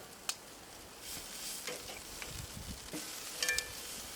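A boneless ribeye steak sizzles faintly on a Weber grill outdoors, a soft steady hiss broken by a few small pops and clicks, quiet and close.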